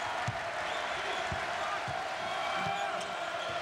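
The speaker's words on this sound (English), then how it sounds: "And the crowd is rooting." Crowd at a 1997 Stanford versus Washington men's college basketball game, cheering as a steady distant roar, with a commentator talking over it and faint court bounces beneath.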